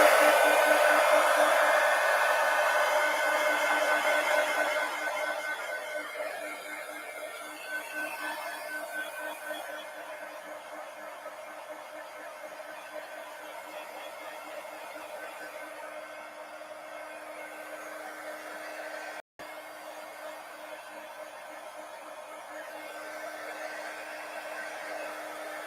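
A hair dryer blows steadily and close over painted paper stars, a continuous whooshing roar that eases slightly after the first few seconds and holds with a brief dropout near the end.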